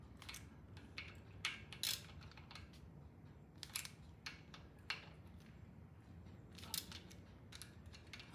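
A short-handled ratchet tightens the timing cover bolts on a Norton motorcycle, giving quiet, scattered bursts of metallic clicking at close range against a low background hum, with no talking.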